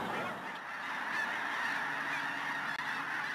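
Geese honk in a noisy chorus as a flock takes off into the wind, the calls steady and fairly distant over a windy outdoor background.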